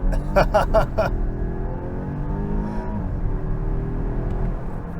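A 2024 Volvo XC60 Recharge SUV in power mode launches hard from a torque brake on wet streets, its motor whirring and rising steadily over about five seconds, with a few sharp clicks or taps near the start.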